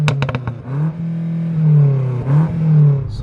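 A tuned BMW F90 M5 Competition with an Evolve Stage 1 upgrade idles loudly up close, with a few sharp clicks at the start and then swelling, wavering engine tones that rise and fall in short revs.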